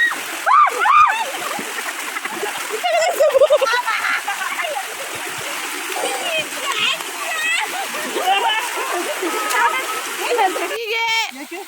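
Water is poured over a household pig to bathe it, giving repeated splashes and sloshing pours at close range. People talk throughout.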